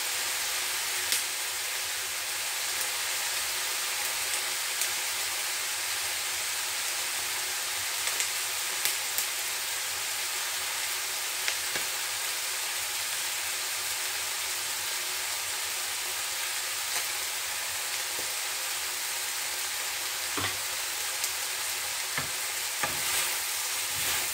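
Vinegar simmering and sizzling in a pan with chicken for chicken pastil, a steady loud hissing bubble that runs unbroken with a few faint clicks and no voices.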